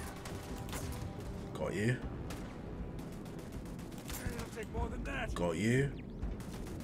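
Scattered gunshots and impact cracks in a Starfield firefight sound at moderate level through constant background game noise, with a few sharper bursts and a voice speaking briefly over them.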